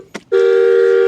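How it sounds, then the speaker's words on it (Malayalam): Horn of a toy ride-on Mercedes-Benz car: after a brief click, a single steady electronic beep-like tone sounds loud and close for nearly a second. "ഇവിടെ ഒരു ഹോൺ ഉണ്ട്."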